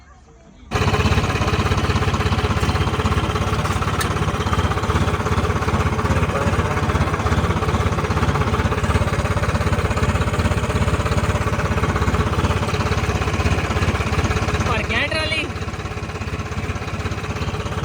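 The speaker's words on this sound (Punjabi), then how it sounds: "ਹੁਣ ਟਰੈਕਟਰ ਕੱਢੀਏ ਹੁਣ ਆਪਾਂ" A tractor engine fires up abruptly after a brief quiet moment, then runs loud and steady at a constant rumbling drone for the rest of the time.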